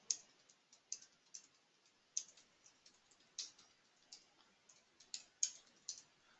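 Light, crisp computer mouse clicks while navigating a Salesforce setup menu, scattered and quiet, with uneven gaps between clicks and no talk.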